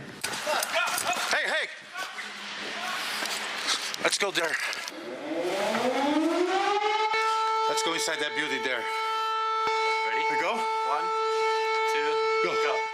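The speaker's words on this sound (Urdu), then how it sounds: "عموماً سائرنز حملوں سے پہلے بند ہو جاتے ہیں، لیکن ہمیشہ ایسے نہیں ہوتا۔" A civil defense air raid siren wails over Stepanakert, the Nagorno-Karabakh capital, during days of bombardment. It rises out of street noise into a long, loud, steady tone, with traffic and scattered clatter continuing underneath.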